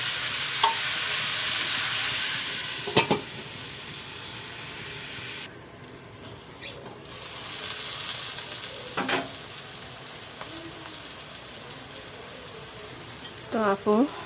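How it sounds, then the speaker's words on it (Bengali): Vegetables being sautéed and stirred in a pan, a steady sizzle with occasional scrapes and clinks of the utensil, close and moderately loud, with a brief tap-water sound partway through. "আমি সবজিগুলো একটু কষিয়ে নিলাম ভালো করে"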